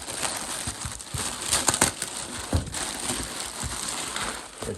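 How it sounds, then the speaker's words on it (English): Packaging being unwrapped from a VF Engineering supercharger kit for a BMW E46, a steady close crinkling and rustling of wrap with a few louder crackles, continuous throughout. "We'll unwrap this Supercharger a little further."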